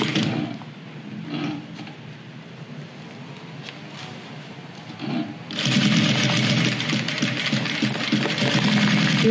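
A sewing machine runs a reinforcing backstitch on a double-box toiletry bag. Quiet handling comes first, then the motor whirs up loud and steady, close by, for several seconds.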